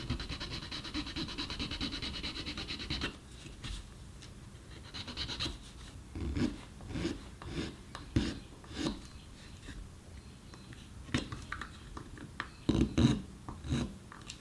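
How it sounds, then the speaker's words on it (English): Hand file rasping on a plastic guitar part, soft scraping strokes repeated irregularly, close but fairly quiet, with faint handling noise. "So I've started filing this"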